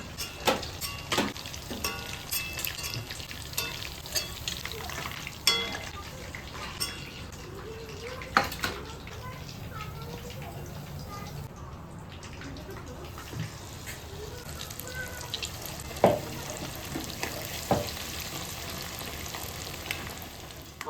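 Chicken frying in a pan for chili chicken, a steady low sizzle with scattered close clinks and scrapes of a utensil against the pan, fairly quiet throughout.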